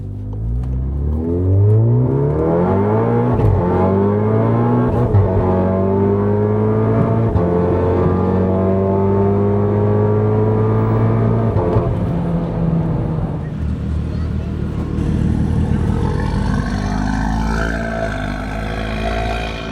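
A Golf R with a Precision Turbo Stage 3 kit on E85 revs hard on the street and climbs through the gears, the roar rising in pitch with each shift, loud and close as it accelerates away.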